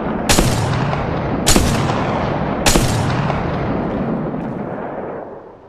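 Three heavy gunshot blasts from the mobile battle royale game Apex Legends Mobile, spaced about a second apart, each with a sharp crack and a long rumbling tail over steady loud background noise.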